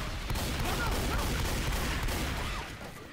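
Gunfire in the video game Left 4 Dead 2, a dense, continuous burst of shots and booming rattle that fills the scene at high volume before easing off near the end.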